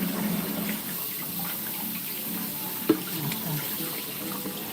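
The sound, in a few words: water running from a tap to rinse out an appliance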